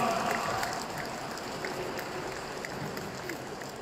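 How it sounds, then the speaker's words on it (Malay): Steady, diffuse clapping from a seated audience in a hall, honouring frontliners at a political party gathering, moderately distant and continuous without voices over it. "berikan tepukan kepada frontliners, wakil-wakil yang ada pada malam ini"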